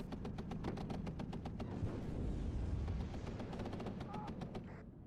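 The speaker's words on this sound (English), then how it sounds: "those tanks are firing on those BMPs and the infantry now" Rapid repeated gunfire from tanks shooting at BMP infantry vehicles and foot soldiers in the WARNO real-time strategy game, a steady rattle of sharp bursts over a dense rumbling battle din.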